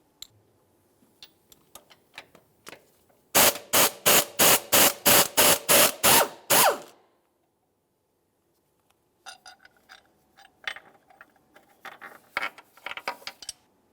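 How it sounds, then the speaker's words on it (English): A ratchet with a 16 mm socket and extension works a bolt loose on a Volkswagen Jetta, giving a close, loud burst of about ten even clicking strokes, followed later by scattered lighter metallic clicks and clinks. "take our 16 millimeter with an extension and we can remove that bolt"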